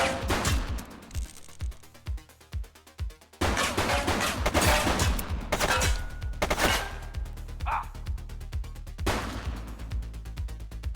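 Gunfire in the police game The Precinct: a run of separate sharp shots in the opening seconds, then a denser, louder volley of overlapping blasts with explosive crashes, loud and close.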